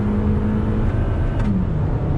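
A 2020 Toyota RAV4 TRD Off Road accelerates out of a tight switchback, its engine note rising in a steady hum heard from inside the cabin.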